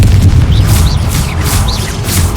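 In the Hogwarts Legacy video game, the Confringo fire spell sets off loud booming explosions that rumble heavily in the low end, with whooshing bursts and crackling debris layered on top across the whole stretch.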